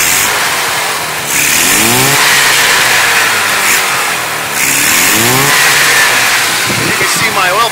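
Fuel-injected Subaru 360 engine with throttle bodies running close by, a buzzy small two-stroke note rising and falling through repeated revs over a rough, stumbling idle.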